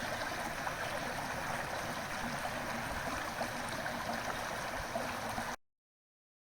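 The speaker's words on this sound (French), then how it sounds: "Le bruit de l'eau." River water flowing below a hiking trail, a steady broadband rush heard from a short distance, continuous and unvarying until it cuts off abruptly into silence, with no voices.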